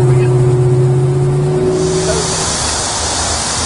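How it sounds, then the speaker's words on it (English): A 1969 Dodge Charger runs down the road with a steady, loud engine drone and strong low harmonics that fade partway through, leaving a broad rushing road and wind noise. "Just a real nice running car. Straight as an arrow down the road"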